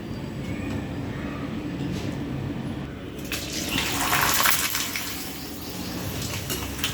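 Sun-dried potato chips hit hot oil in a pan, giving a steady close sizzling hiss that swells louder after about three seconds and then settles back.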